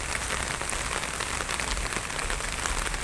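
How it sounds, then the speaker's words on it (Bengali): Heavy rain falls at a ferry ghat on the Ganges, a dense, even hiss of drops striking surfaces. It stays steady and close throughout with no voices. "দেখুন প্রচণ্ড বৃষ্টি হচ্ছে।"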